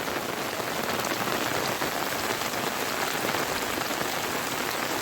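Heavy rain pours down in a dense, constant hiss of drops striking surfaces, loud and unbroken throughout with no voices.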